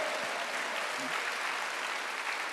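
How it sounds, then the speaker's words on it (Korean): Congregation at a Wednesday church service applauding in a continuous, even roar of many hands, steady throughout without a break. "박수 한번 하세요"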